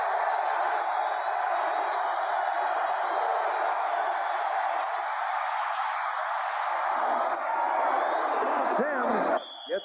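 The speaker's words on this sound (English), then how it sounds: "Listen to this crowd. The stadium is rocking." A packed stadium crowd roars at a 1985 NFL game between the New York Giants and Washington Redskins. The loud, sustained, broadband roar holds steady for about ten seconds and swells slightly near the end.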